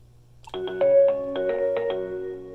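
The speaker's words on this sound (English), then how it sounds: "this allows me to go ahead and hear the different ringers available on the phone" Several ringtones on an Avaya J-Series desk phone play one after another, bright electronic melodic tones in short, repeated phrases, close and clear, with no talk over them.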